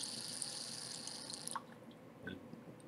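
Red wine streams through an aerator into a glass, a steady hissing, airy pour for about a second and a half, then soft drips and trickles as it stops.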